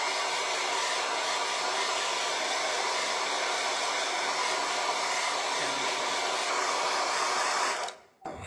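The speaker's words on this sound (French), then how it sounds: "Il n'existe pas encore des sèche-cheveux silencieux." A hair dryer blows steadily and loudly, close by, while it dries acrylic paint on canvas. The whoosh holds constant for about eight seconds, then cuts off abruptly.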